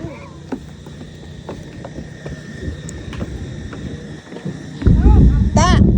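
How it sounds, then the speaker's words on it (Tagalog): A deep, loud rumble of thunder swells near the end, following a stretch of steady heavy rain at high tide and scattered voices. "Ulan na, kumulog, kulog, kulog na."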